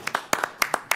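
An audience at a city council meeting claps briefly, with about seven close, sharp, uneven hand claps in quick succession.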